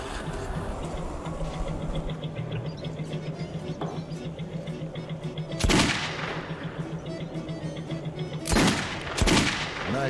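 Gunshots from the video game Metro 2033: three loud, close reports, one alone and then a quick pair, cutting through a steady mechanical hum and ambient game sound.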